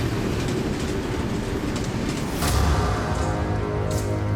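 A diesel-electric freight locomotive on an Arctic railroad in Canada, a steady loud rumble of rolling wagons with clickety-clack wheel rhythm and a rising roar partway through, no talk.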